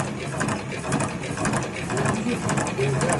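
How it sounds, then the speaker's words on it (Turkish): A cam-driven winding machine with a bladed helix screw conveyor runs nearby, giving a continuous, loud mechanical clatter with rapid ratcheting ticks and gear whir. "konuşmadığım zaman makine daha çok ses veriyor yukarıya"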